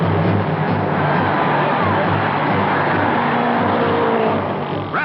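Race cars at the 1960 Dutch Grand Prix, including Rathman's car running on worn tires, blast through the turns with a loud, sustained, slightly muffled engine roar that swells and fades as they pass.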